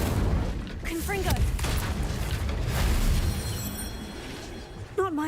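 A Confringo blasting spell going off in Hogwarts Legacy: continuous low rumbling booms and bursts over several seconds, with short voiced sounds breaking in near the start and the end.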